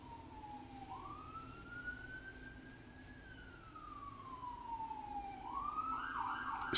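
Emergency vehicle sirens wail through a city street, one rising and falling tone sweeping slowly up then down, a second siren joining louder near the end over steady traffic rumble; no talking.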